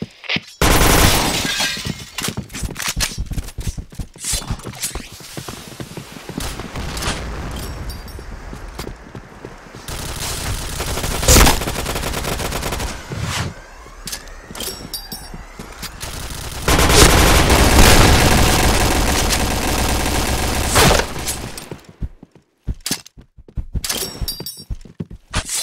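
Gunfire in a shooter video game, loud dense bursts of shots, impacts and shattering that come in clusters with brief lulls across the whole stretch.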